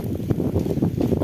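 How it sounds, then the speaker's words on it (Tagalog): Strong wind buffeting a microphone outdoors in a park, low rumbling gusts that rise and fall in quick irregular surges, close and dominant with no other clear sounds. "Masyadong malakas ang hangin"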